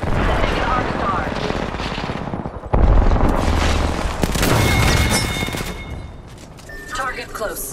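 Arc star grenade going off in a sci-fi shooter game amid ongoing gunfire and blasts, a dense loud barrage with a sharp burst midway and crackling electrical tones, with talk over the combat.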